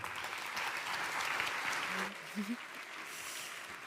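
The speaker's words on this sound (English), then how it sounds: "So please give a round of applause to Maggie Appleton." A conference audience at Smashing Conference in Antwerp claps for Maggie Appleton, a dense roll of hands that fades out after about two seconds, then a brief voice and quiet room tone follow.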